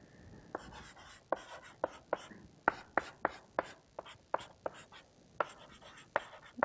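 Chalk or marker writing on a board during a computer science lecture, a string of sharp rhythmic taps and strokes at close range with faint room noise and breathy voice between.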